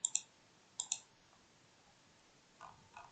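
A computer mouse clicks in two quick double-click pairs close by, then two softer clicks follow after a pause, all against near silence.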